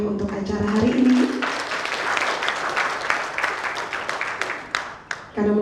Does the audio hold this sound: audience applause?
yes